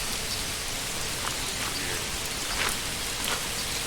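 Steady rainfall in the medieval city-building game Manor Lords, a dense even hiss of drops on the ground with occasional brighter patters, constant and moderately quiet without any speech.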